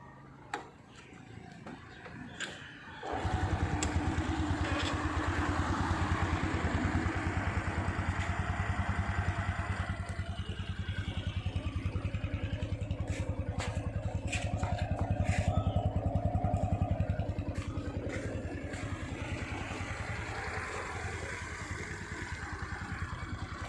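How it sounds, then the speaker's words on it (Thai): A Honda Wave 110i motorcycle is started after a few seconds of quiet, then settles into a steady, even idle that runs close by for the rest of the clip, with a slight rise in revs midway. "ลองสตาร์ทให้ดูครับ"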